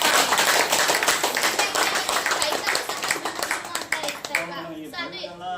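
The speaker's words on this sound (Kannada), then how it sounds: "ಓಕೆ, ಜೋರಾಗಿ ಚಪ್ಪಾಳೆ." Clapping from people at a stroke-therapy patient session, dense and fairly loud at first, thinning toward the end as a voice and other sounds emerge.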